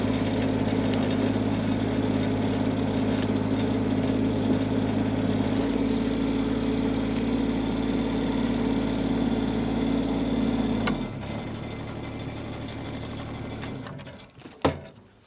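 Groundhog KH25D mini-excavator engine running while the hydraulics work and the turntable swings, a loud steady droning hum that eases off near the end, followed by a brief knock.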